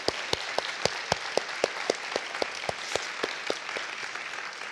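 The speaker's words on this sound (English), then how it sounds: "Let's please give them all another round of applause." Applause from a small audience at a justice talk by Jeremy Travis, with a steady run of separate handclaps clearly picked out over a softer wash of clapping, continuing alone without voices for several seconds.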